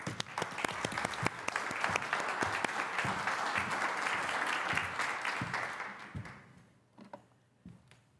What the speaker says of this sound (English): So can we please give a big round of applause to Alexandra Borchardt.